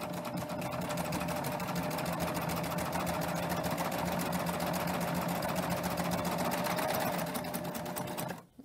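A serger stitches a seam on fabric, its motor running in a fast, steady mechanical whir at close range for several seconds before stopping abruptly at the end.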